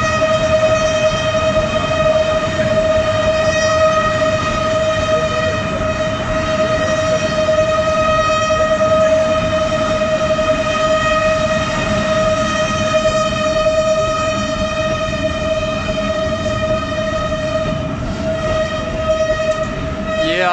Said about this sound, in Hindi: ट्रेन लगातार हॉर्न के जरिए लोगों को खबरदार करते हुए,